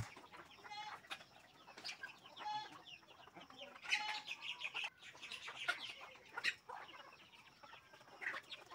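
Desi chickens and roosters on a farm peck at freshly scattered feed in the morning, giving faint scattered clucks and short chirps at an uneven pace over a quiet background.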